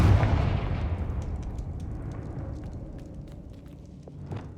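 A Confringo blasting spell from Hogwarts Legacy explodes in a tomb, one loud booming blast at the start that rumbles and slowly fades, with faint crackling debris trailing after.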